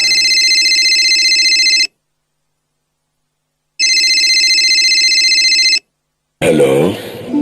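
A telephone rings for an incoming call: two loud, long electronic trill bursts separated by silence, close and clear, followed by a brief burst of speech.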